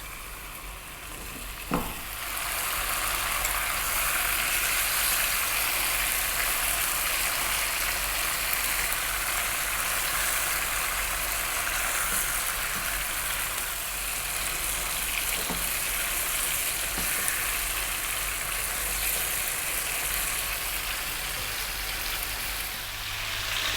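Cod steaks with lemon, garlic and spices sizzle steadily in hot oil in a pan over above-medium heat, a loud, continuous frying hiss with a few faint clinks, no voices.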